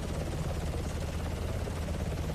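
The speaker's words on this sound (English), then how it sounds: "it is an NPC-driven helicopter" NPC-flown helicopter in the BRM5 zombies video game, a steady loud rotor and engine roar heard close up as if riding aboard, continuous and unchanging without talk.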